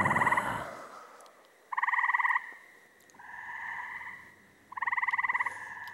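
Frogs croak on a quiet June night in the countryside, with several bursts of rapid, buzzing trills separated by short pauses, fairly close and alone.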